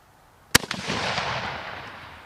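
A single Mosin Nagant rifle shot firing 7.62x54R ammunition, a sharp loud crack followed by a long rolling outdoor echo that fades slowly, with no voices.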